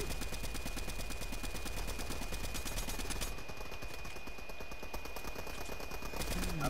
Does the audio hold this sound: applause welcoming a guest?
no